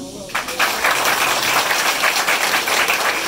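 A school audience applauds the principal at a junior high graduation ceremony. A short vocal sound opens, then steady dense clapping fills the rest.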